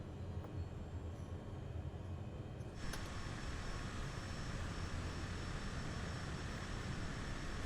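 A small bush plane's engine in Microsoft Flight Simulator, on a trip over southern England from Cranfield to Bristol, with a steady loud drone that lifts to a higher, stronger pitch partway through and holds there.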